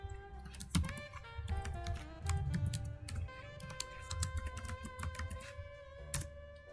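Keys clatter on a computer keyboard in quick irregular bursts of close, crisp clicks, with a faint steady hum underneath. No one speaks.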